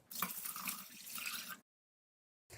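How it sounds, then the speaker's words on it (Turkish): Four cups of water pour steadily into a pot of sugar for about a second and a half, then stop abruptly, with a brief splash resuming at the very end. "Üzerine de 4 su bardağı su ekliyorum."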